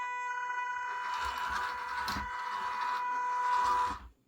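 Cheap RC car's electric motor bench tested at slow throttle, a steady whirring whine with tonal hum running close and continuous for about four seconds before winding down to a stop.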